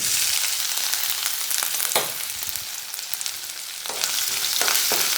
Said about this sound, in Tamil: இஞ்சியை சேர்த்து நல்லா வந்து எண்ணெயில் வதக்கி விட்றாங்க